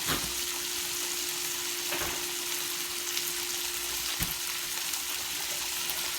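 Curry chicken frying in a pan makes a steady, even hiss of hot oil. A low constant hum runs underneath, broken by a few faint clicks, all at moderate loudness.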